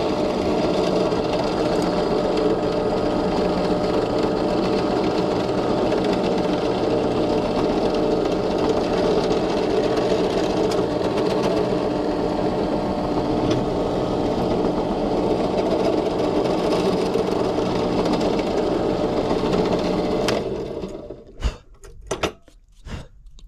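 A drill bores a hole through a small wooden hummingbird held on a board for a mobile, giving a steady, close, continuous whirring drone that runs for about twenty seconds before cutting off into a few brief knocks and clatters.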